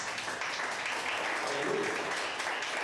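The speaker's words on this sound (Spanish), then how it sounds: "Denle un gran aplauso al Señor." Church congregation applauding during a sermon, a steady, even roar of many hands clapping together at moderate loudness with no pauses.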